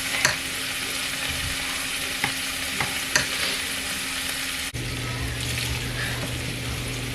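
Ground beef frying in a pan gives a continuous hissing sizzle with occasional sharp utensil clicks, and the sound shifts partway through.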